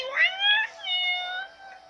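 A brown-nosed cat gives a clear, close meow, a drawn-out tonal call of about two seconds that bends slightly in pitch, alone in a quiet room.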